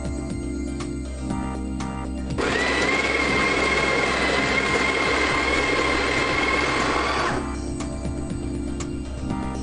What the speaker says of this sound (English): We're just going to grind some coffee now.